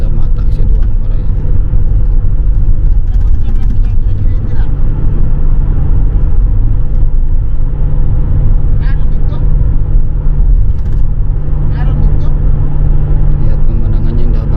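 Steady, loud rumble of car traffic rolling along a Kuwait toll road, a continuous low drone of tyres and engines with no breaks, and a voice speaking at times over it.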